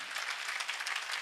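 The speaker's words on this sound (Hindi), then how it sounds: "हाँ तो तालियां बजावा तो क्यों कंजूसाई करो" Audience applause at a Hindi-language spiritual discourse, a steady wash of many hands clapping at moderate distance, continuous and fairly quiet throughout, with no voices on top.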